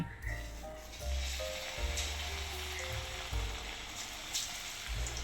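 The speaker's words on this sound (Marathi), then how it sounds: "एका कढईमध्ये मी तेल गरम करण्यासाठी ठेवलेले आहे आणि आता एक एक करून पकोडे टाकायला सुरुवात केलेली आहे" Chicken pakoras frying in hot oil in a wok, a steady crackling sizzle that swells as each piece is dropped in, with low thumps and a faint voice underneath.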